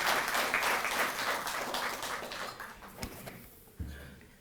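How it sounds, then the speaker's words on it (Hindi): Audience applause for the chief minister at a Delhi government ceremony honouring athletes: dense, steady clapping from a crowd that gradually thins and fades, with a few last claps near the end. "एक बार जोरदार तालियों से आप सब"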